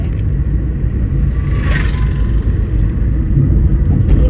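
A car on the drive to the Ghati Subramanya fair rumbles steadily from inside the cabin, its engine and road noise loud and constant, with a brief rising whoosh of passing traffic midway.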